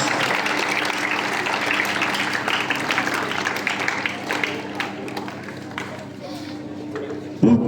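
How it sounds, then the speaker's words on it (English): An audience at a Nepali storytelling competition prize distribution keeps up a long stretch of steady clapping and crowd noise, fading slightly toward the end, with some voices mixed in. "Give him a big round of applause."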